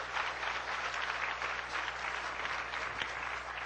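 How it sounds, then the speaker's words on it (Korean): An audience at a church sermon breaks into applause, a thick, continuous patter of many clapping hands at moderate volume under a faint steady hum, sustained without a break. "박수."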